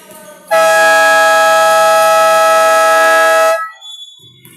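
A loud, sustained basketball game buzzer blares for about three seconds, ending the third quarter, then cuts off abruptly, leaving faint background noise.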